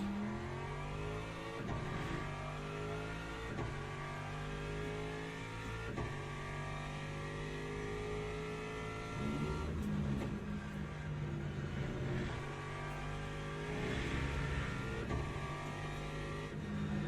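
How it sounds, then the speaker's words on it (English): A hypercar engine in the Le Mans Ultimate racing game screams through repeated gear changes, rising and falling revs, loud and continuous with no voice. "We got another hypercar coming."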